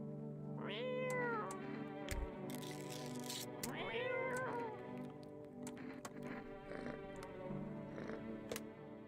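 A cat meows twice in a video game, each a clear rising-falling call, over a steady hum and scattered clicks of game sound.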